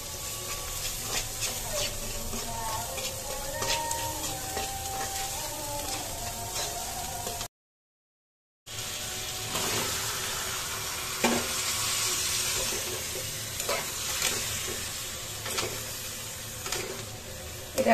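Bottle gourd and lentils cook in a pan with a soft, continuous sizzle and occasional stirring scrapes and clinks, with a brief silent gap midway.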